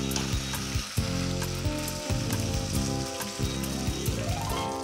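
Onions with mint and coriander sautéing in a pan for vegetable biryani, a steady close sizzle broken by repeated scraping and clattering stirs of a spoon against metal, with no talk.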